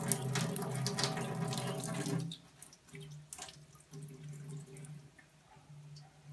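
Water from an EOS Touch water ioniser pours in a strong stream for a couple of seconds, then drops to a softer, intermittent trickle with faint dripping.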